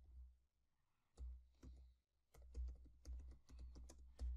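Typing on a computer keyboard: quiet, close clusters of key clicks in irregular bursts separated by brief pauses.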